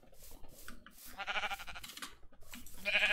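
Video game sheep bleating in a few short bursts, the last one loudest, with faint clicking underneath and no talking.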